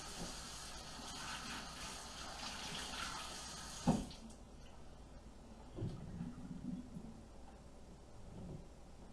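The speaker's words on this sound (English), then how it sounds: "So go ahead and give them a good rinse. And you want to do the same with your zucchini." Tap water runs at a kitchen sink to rinse vegetables and zucchini, giving a steady faint hiss that stops partway through, followed by a few soft clunks and splashes.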